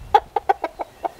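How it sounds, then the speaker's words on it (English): A large cockerel gives six short, evenly spaced clucks, close and moderately loud, with no crow and no talking. "She's a bit scared of the cockerel because he's massive."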